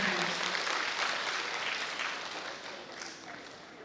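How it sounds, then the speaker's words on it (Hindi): Applause from an audience at the opening of a women's participation program event in Ranchi, Jharkhand: a dense, steady wash of clapping that starts loud and slowly fades over a few seconds, with no talk over it. "जोरदार तालियों के बीच आदरणीय शुभारंभ"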